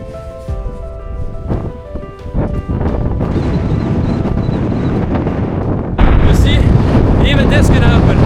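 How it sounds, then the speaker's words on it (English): Strong wind roars and buffets the microphone on an exposed mountain scrambling hike, a continuous heavy rushing that grows louder toward the end, with a few thumps early on. "The wind is so strong."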